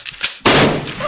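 A single loud gunshot bursts out suddenly after a moment of quieter background, its blast and rumbling tail filling the rest of the brief moment.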